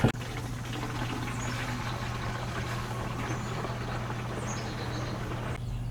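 Biodynamic preparation stirred by hand in a container of water: a steady, continuous swirling slosh with a low droning hum underneath, close and even throughout, with no talking.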